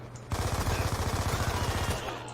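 Rapid automatic gunfire from Call of Duty Black Ops 2, a dense burst of repeated shots that starts abruptly and rattles steadily for about two seconds, fairly loud and with no voice over it.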